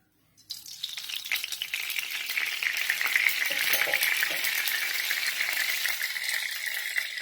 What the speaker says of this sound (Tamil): இப்போது நம்ம கொஞ்சம் தாளிக்கிறதுக்கு எண்ணெய் ஊற்றிக்கலாம்.